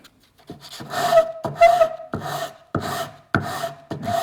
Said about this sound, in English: So I'm going to hit this first with the 80 grit